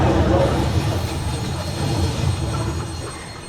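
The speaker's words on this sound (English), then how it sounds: "The train has stopped." Stage sound effect of a train stopping in a theatre production of Murder on the Orient Express, a steady low rumble of rolling railcars with faint wheel squeal, easing slightly as it slows.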